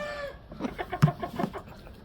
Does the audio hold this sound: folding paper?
no